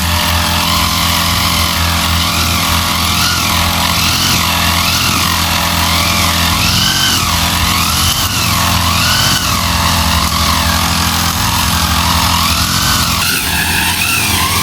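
A grass cutter engine drones loudly and without a break while cutting very thick grass along a canal near coconut trees, its pitch rising and dipping as the blade works through the growth.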